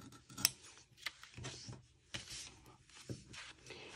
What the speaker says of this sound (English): you are free to draw around the pattern and then cut on your guideline